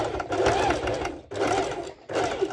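A sewing machine stitches a bandeau top in bursts: a busy whirring run, a short pause, a second run, then a brief restart, close and fairly loud.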